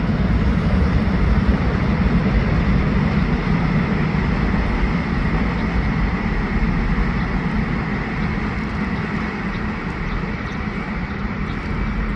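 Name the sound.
metro train passing by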